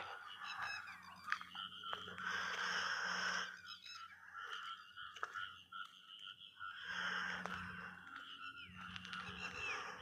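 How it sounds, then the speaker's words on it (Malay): Birds call noisily around a university campus lake at night, a dense, continuous chorus of chirps and trills that swells and fades in waves, with low hum beneath. "Bunyi burung-burung bising kan."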